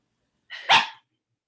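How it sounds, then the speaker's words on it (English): A dog lets out a single short, sharp bark, close and clear against silence. "Let's see if somebody will come get the doggy who wants to bark."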